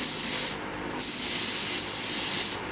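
A spray gun lays a urethane coat on wheels in two long, loud, steady hissing passes with a short gap between them, heard close up.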